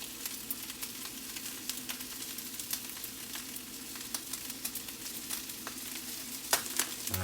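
Food sizzles and spits steadily in a hot pan with avocado oil, a dense crackling hiss with scattered sharp pops, close and continuous throughout, with no voices.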